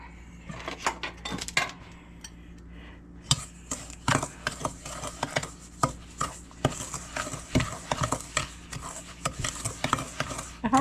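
Sugar and eggs for banana nut bread being mixed in a bowl, with a utensil clinking and tapping against the sides in a steady run of close, sharp knocks and no talking.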